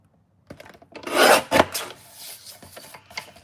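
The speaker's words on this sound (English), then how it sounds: "I'm just going to trim up these sentiments." Paper stamped sentiments being trimmed for card layering, a quick close-up rasping cut followed by softer scraping and rustling of paper, with no talking.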